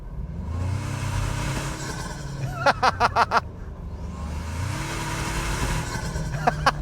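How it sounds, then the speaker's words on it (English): A 2025 Toyota 4Runner Trailhunter engine runs steadily, with a quick burst of four sharp whistling turbo chirps through its high-clearance snorkel midway and two more near the end. "you can literally hear the turbo whistle noises"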